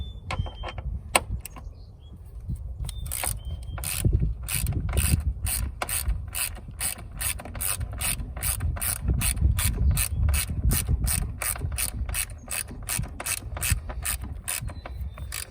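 A ratchet works loose the door check bolts on a Jeep Gladiator, rapid rhythmic clicking bursts repeating steadily and close, with a low mechanical rumble beneath and no speech.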